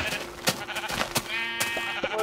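Sheep in Minecraft bleat repeatedly in short wavering calls with sharp clicks between them, close and fairly loud, with no talk.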